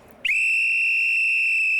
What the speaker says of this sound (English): Here's a whistle. I wonder what this does.